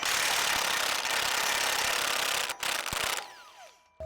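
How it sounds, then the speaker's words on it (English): Two bolts being undone with a ratchet: a loud, continuous mechanical grinding and whirring runs for about three seconds, then cuts off. A few fainter clicks and a thin whine follow. "So we're just going to undo these two bolts."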